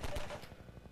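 Gunfire in the Half-Life 2 video game comes as a rapid burst of several close, loud shots at the start, then a quieter string of shots.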